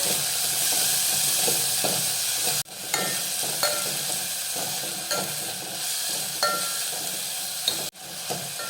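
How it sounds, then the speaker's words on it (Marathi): Finely chopped tomato sautés in a pan for a sattvic vegetarian thali, a continuous bright sizzle broken by stirring scrapes and a couple of sharp spoon knocks, close and steady with no talk. "एक मध्यम आकाराचा टोमॅटो बारीक चिरून घेतलेला आहे तो घालूया आणि आता हे परतून घेऊया"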